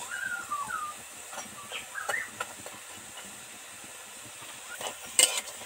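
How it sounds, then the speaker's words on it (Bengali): Chana dal fritters with ridge gourd frying in hot oil make a soft, steady sizzle with a few faint crackles and pops, fairly quiet and without talk. "সুন্দর করে ভেজে নিলাম, এবার তেল ছেঁকে উঠিয়ে নেব।"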